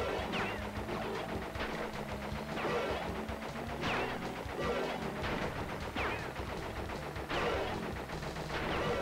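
Rapid gunfire from shooting in the video game Crash Bandicoot: Warped comes in repeated bursts with a steady rhythm of sharp cracks over a busy, continuous game backdrop, with no one speaking.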